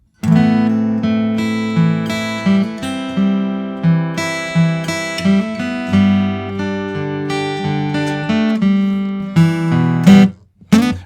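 Picked guitar notes ring and overlap in a riff, played to mimic a 12-string sound with a repeated high E droning through the pattern, close and steady before a short final strum.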